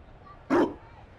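A single short dog bark from the video game Dragon Age Inquisition rings out clearly over a quiet background.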